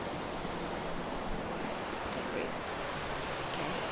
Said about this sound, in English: So here is the river.